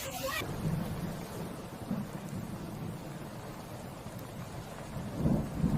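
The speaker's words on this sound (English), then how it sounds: "delays due to storms sweeping through the region" A thunderstorm with rain in Sicily, Italy: a steady wash of rainfall with low rumbling thunder rolling underneath, swelling briefly near the end, no voices.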